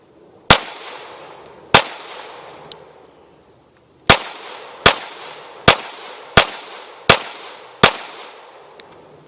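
Glock Gen 4 G17 9mm pistol firing, two sharp loud shots, a pause, then five evenly spaced shots in quick succession, with faint clinks of ejected brass in between.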